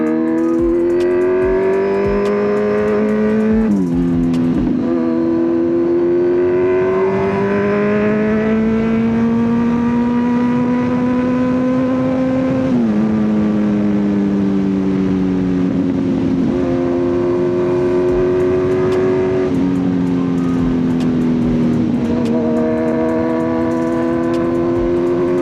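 Kawasaki Z900 motorcycle riding along a coastal road in Konkan, its engine droning loudly and steadily, rising in pitch through the gears with several shifts and dips as the rider accelerates.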